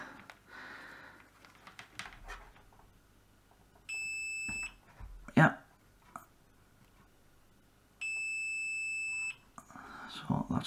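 A multimeter on diode check, used on a faulty Swann CCTV recorder, gives two steady, clear high beeps of about a second each with a pause between them. Quiet handling noises and some speech come in between the beeps.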